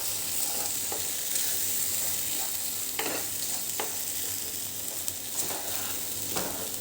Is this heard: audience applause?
no